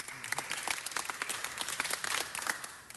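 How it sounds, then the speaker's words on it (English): Applause from an audience at a council meeting, a dense steady patter of many hands clapping for about three seconds, fairly close and sustained without letting up. "let's give him a big round of applause"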